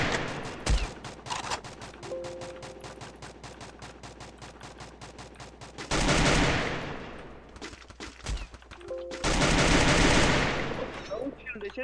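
Rapid automatic gunfire in the game Free Fire rattles in long bursts, with louder sustained blasts and brief pauses between volleys, close and dense throughout.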